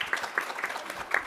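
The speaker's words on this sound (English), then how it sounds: "Please give a round of applause." Audience applause at a workplace summit of AI lightning talks, a brief burst of scattered clapping at a moderate distance, fairly quiet in the room.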